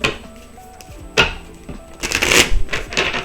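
Tarot cards being handled and shuffled for a reading, crisp riffling snaps and clatters in short bursts, near and fairly loud with no voice over them.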